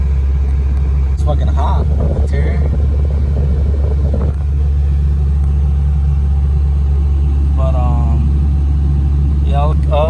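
Cold Honda Integra DA9 engine held at a steady raised idle to warm up, a constant low rumble close by, while someone speaks briefly over it and a few short clicks and taps sound near the end.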